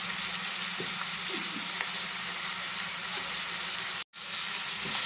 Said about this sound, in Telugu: ఈ ఉల్లిపాయలు మనకు కొంచెం గోల్డ్ కలర్లో వచ్చేదాకా ఫ్రై చేసుకున్నామండి